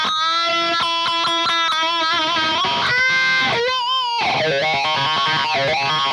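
Electric guitar played through a wah pedal, loud sustained notes and chords sweeping through a vocal-like filter, with a quick string of picked notes early and a more distorted, wavering passage near the end.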